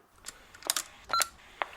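Several short electronic telephone tones beep in quick succession, faint and close, as a phone is keyed to play back voicemail messages.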